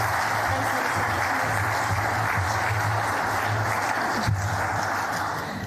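Steady applause from an audience at the NT Sports Awards ceremony, a dense continuous wash of clapping with a low hum underneath, holding evenly before tapering off at the end.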